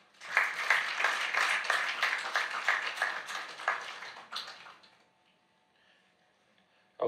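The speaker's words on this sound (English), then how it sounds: "A round of applause for them." An audience at a photography talk claps for the founders, a dense burst of applause lasting about four seconds that thins out and fades into near silence.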